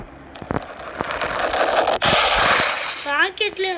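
Rocket fire and explosions from the Roblox game Missile Country: a rapid series of sharp bangs and blasts, loud and busy, with a voice speaking briefly near the end.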